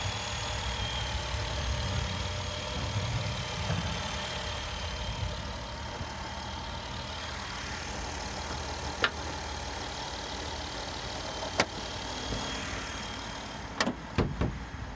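2008 Jeep Wrangler Unlimited Sahara with 51,722 miles idling up close, a steady low engine rumble with faint clicks and knocks near the end.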